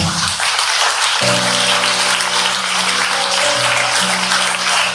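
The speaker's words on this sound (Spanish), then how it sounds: "Denle un aplauso al Padre." A church congregation applauds the pastor, a dense sustained wash of clapping that keeps going as soft held musical tones come in underneath.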